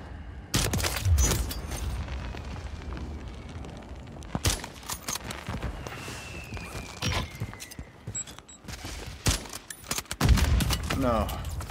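Gunfire in Call of Duty Warzone on Rebirth Island, including a sniper shot, with sharp loud cracks scattered through a tense stretch of footsteps and movement, a player's voice speaking in between.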